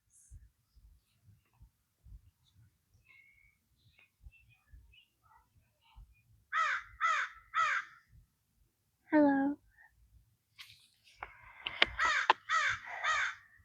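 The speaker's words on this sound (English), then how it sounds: "The crows have been amazing lately." Crows cawing in loud, harsh bursts of three or four calls, separated by pauses, close by over faint background noise, with a brief spoken greeting between the calls.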